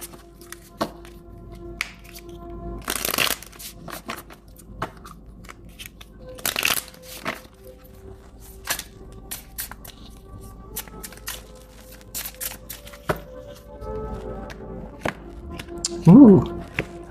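Synchronicity Oracle tarot cards shuffled by hand, scattered soft taps and riffles over several seconds, close and fairly quiet, with brief talk between the card sounds.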